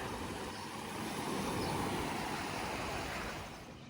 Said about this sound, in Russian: А здесь шум прибоя.